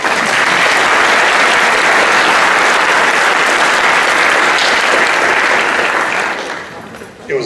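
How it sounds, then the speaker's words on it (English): An audience at an opening ceremony applauds, dense sustained clapping filling the room for several seconds before tapering off. "It was a sympathy clap, but I will take it."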